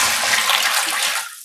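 Water pours from a 2-liter measuring cup into a large plastic tub in one short continuous splashing gush that tapers off at the end.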